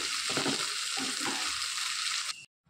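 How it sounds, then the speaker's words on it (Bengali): Onion, tomato and ginger-garlic paste sautéing in a pan, a loud continuous sizzle with bursts of stirring scrapes, cutting off abruptly near the end. "পেঁয়াজ আমার একটু নরম হয়ে গেলে এই পর্যায়ে আমি দিয়ে দিলাম একটা টমেটো, আদা রসুনের পেস্ট দিয়ে ভালো করে আমি মশলাগুলোকে কষিয়ে নেব।"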